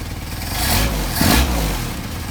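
A Mercedes 190SL engine with Solex carburetors starts and revs. A loud, close engine rumble swells twice over a few seconds, with no talk.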